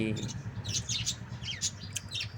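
House sparrows chirp in short, high, scattered bursts, several calls overlapping, over a low steady hum and faint background murmur.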